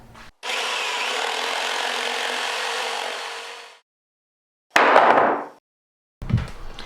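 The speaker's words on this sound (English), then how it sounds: "Today's video features a Japanese saw" A Japanese Shokunin pull saw cuts through wood in one long, steady rasping stroke of about three seconds, followed by a short scraping pass and a brief knock, close and clear with no talking.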